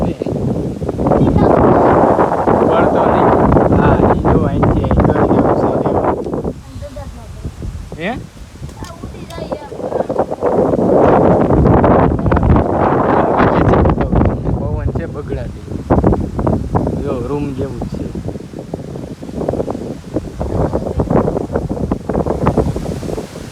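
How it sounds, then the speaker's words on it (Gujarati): Strong wind buffets the microphone in loud gusts, with people talking throughout and a brief lull in the middle. "પવન બહુ છે"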